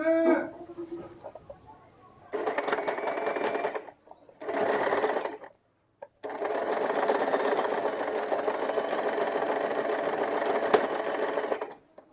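A sewing machine stitches small quarter-inch tucks on a blouse in three long bursts of steady whirring, the last lasting several seconds, separated by short pauses, with a brief spoken bit at the start.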